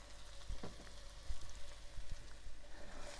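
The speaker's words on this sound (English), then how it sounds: "we're going to let these saute for just a few minutes, getting them soft" Vegetables for a chicken, spinach and mushroom dish sauté in a pan, giving a faint, steady low sizzle with a few soft scrapes and knocks scattered throughout, no talking.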